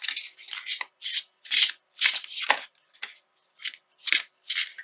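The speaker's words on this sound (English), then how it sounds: "They sound nice when shuffling." Mantra Oracle cards being shuffled by hand, a rapid series of crisp papery riffles and slaps in short bursts with brief pauses between, close and fairly quiet, no voices.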